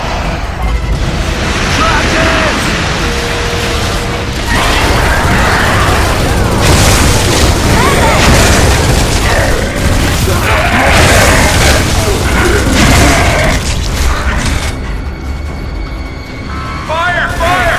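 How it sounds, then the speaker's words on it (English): Heavy deck lift machinery on a warship grinds and rumbles upward in Gears of War 3, a loud continuous mechanical roar with booming impacts, soldiers' shouting mixed through it. "Raise the deck lift!"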